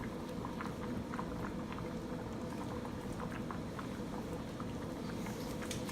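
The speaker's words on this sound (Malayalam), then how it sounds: "ഇതിനിപ്പോൾ തുറന്ന് വെച്ചിട്ട് നമുക്ക് ഒരു 2 മിനിറ്റ് ഒന്ന് തിളപ്പിക്കാം" Salmon fish curry gravy boils in an open pot with a steady, faint bubbling and popping that runs continuously throughout, with no talking.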